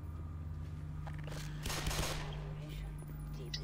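Gunfire in the video game Black Mesa: a short cluster of shots around the middle, fairly faint under a steady background hum.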